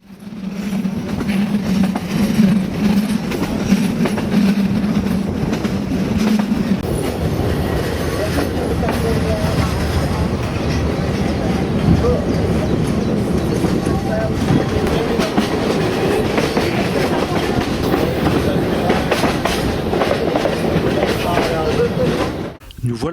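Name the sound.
train running on Czech railway tracks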